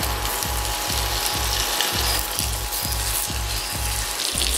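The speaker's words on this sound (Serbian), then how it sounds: "Kad se puter istopio, spuštamo krmenadle i pržimo ih 5 minuta." Pork chops fry in melted butter in a frying pan, with a steady close hiss and bubbling over a regular low thumping pulse that repeats roughly twice per second throughout.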